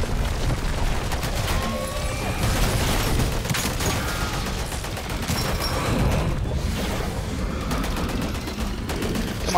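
Sustained automatic gunfire from sentry guns in the MW3 Zombies video game, a dense, continuous rattle of rapid shots at steady loudness throughout, with no talking.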